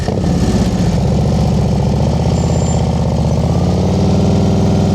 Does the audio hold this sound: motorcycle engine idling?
yes